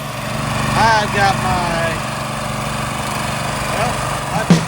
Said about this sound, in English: But let's get to splitting.